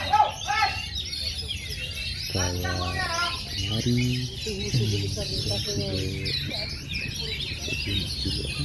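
Songbirds, oriental magpie-robins, chirp and trill at a bird-singing contest, a busy run of fairly faint calls under steady background noise and people talking nearby.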